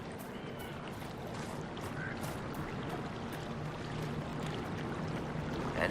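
A river in Dragon Age Inquisition flows steadily in a continuous broadband wash of water, moderately loud and unchanging, with no talking over it.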